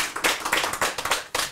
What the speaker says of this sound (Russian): В принципе, вы можете даже аплодировать